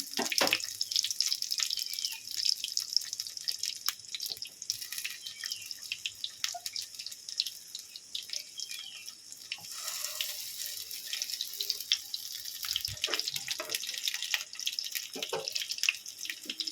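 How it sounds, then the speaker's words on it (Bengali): Pointed gourd (potol) fries in a pan with a continuous crackly sizzle of bright pops and drips that is fairly close and steady throughout, with no voices. "এটাকে ভালো করে ভেজে নিন"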